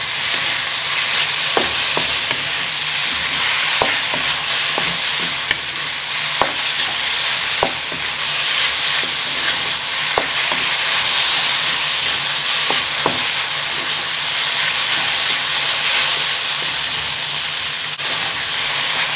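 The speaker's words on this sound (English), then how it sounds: "and start stir frying." Lamb stir-fried in a hot pan for cumin lamb, a steady dense sizzle and hiss with scattered clicks and scrapes of stirring, loud and continuous throughout.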